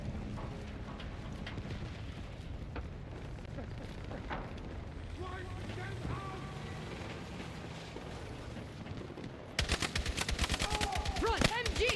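Machine gun fire in the Battlefield 6 war game, rumbling battle noise and distant booms giving way to a loud, rapid burst of automatic shots near the end, with a voice calling out over the combat.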